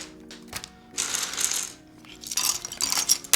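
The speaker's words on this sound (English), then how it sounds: "We're gonna put some of these keycaps away." Polycarbonate keycaps clatter and rattle in two short bursts as a handful is scooped up and put away, with bright plastic clicks close to the microphone.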